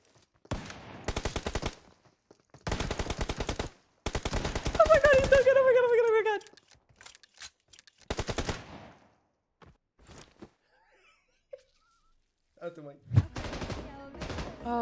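Bursts of automatic fire from an M249 light machine gun in a video game, several sustained volleys separated by short pauses, loud and close, with an excited voice briefly speaking over the shooting.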